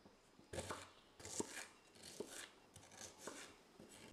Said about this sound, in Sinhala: මුලින්ම මම ලුණු ටික මෙන්න මේ වගේ කොටු හැඩයට කපා ගන්නවා.